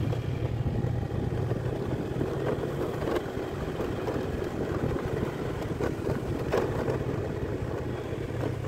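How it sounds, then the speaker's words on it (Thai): A tractor tilling soil in a wet rice paddy during the rainy season, its engine a steady continuous drone with occasional knocks, moderately loud and without speech. "โอ้รถไถตีดินนะไปทางไหนนอกทางนี้ได้"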